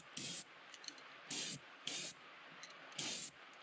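Airbrush dusting a light coat of pearlescent paint onto a fishing lure, four short, quiet hissing bursts with soft clicks in between, close but faint.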